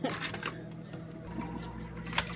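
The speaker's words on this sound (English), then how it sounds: "Now I'm just going to wash these big bowls really fast. Hopefully you can hear over the water." Tap water runs steadily into a sink while big bowls are washed, a continuous close wash of splashing with a few brief clatters.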